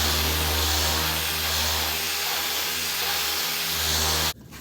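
A fresh 3M sanding disc runs across a NASCAR Buick Regal body panel in prep for paint, a loud, steady whirring hiss with a low hum that stops abruptly near the end.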